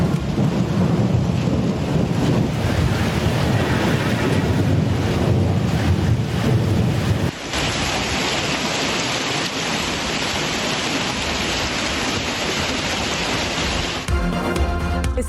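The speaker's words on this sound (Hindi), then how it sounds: "इस्लामाबाद में शदीद तूफान और मूसलाधार बारिश" Heavy storm over Islamabad: loud, continuous roar of torrential rain and gusting wind, dense and steady throughout with a broad rumbling low end and wind buffeting the microphone.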